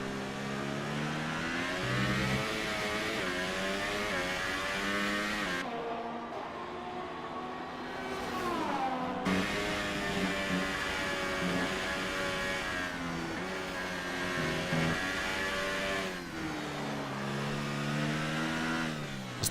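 Renault-powered Formula 1 cars in a racing video game scream in a steady, high engine whine that rises and falls through gear changes, loud and continuous for the whole stretch with no talking.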